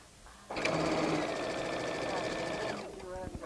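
A sewing machine stitches piping onto fabric with a steady, close, continuous whir that starts abruptly, runs for about two seconds, then stops, followed by faint handling noises.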